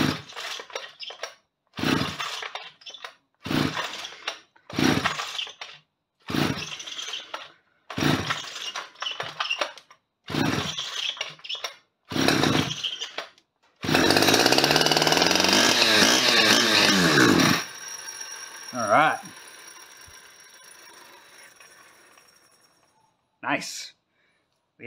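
A small two-stroke Stihl 010 AV chainsaw engine fires in repeated short bursts, then runs steadily at a high, buzzing idle for several seconds before dying down with sputters.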